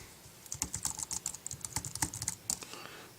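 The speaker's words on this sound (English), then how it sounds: "And now let's try typing something on the keyboard." Quick, uneven clicks of fingers typing on an Apple keyboard, a close, quiet burst of keystrokes lasting a few seconds with no voices.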